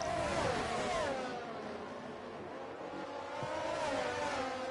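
Racing car engines scream in an Austria race in a racing video game, a high whining tone that rises and falls as cars accelerate and shift, steady and close with no talking.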